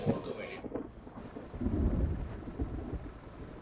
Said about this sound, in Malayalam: പുറത്ത് ഇടിയും മിന്നലും കണ്ടില്ലേ?